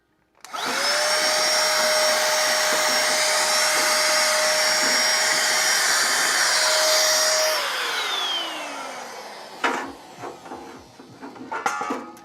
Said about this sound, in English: So I'm going to vacuum this stuff out.